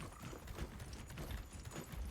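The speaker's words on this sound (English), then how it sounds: "I can hear footsteps." Mounts in the video game Monster Hunter Wilds trot by, giving quiet, rhythmic hoof clip-clops that repeat steadily at a low level, with no speech over them.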